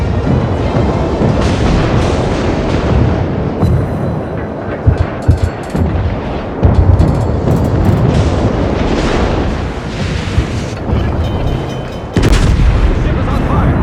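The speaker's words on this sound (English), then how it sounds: "That secondary just shot at my ally." Naval secondary guns fire repeatedly in World of Warships, a dense, loud barrage of booms and blasts over a constant battle rumble, with a voice talking through it.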